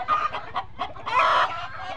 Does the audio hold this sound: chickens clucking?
yes